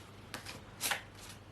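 Oracle cards shuffled and drawn for a reading, a few soft papery riffles and flicks in quick succession, close and quiet, with no voice over them.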